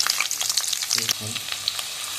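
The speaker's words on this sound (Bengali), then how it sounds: "পেঁয়াজ কুচিটা হালকা ফ্রাই করব।" Chopped onions fry in a kadai with oil and ghee for chicken Maharani, giving a loud, close, continuous sizzle with crackling pops. A brief voice comes through the middle.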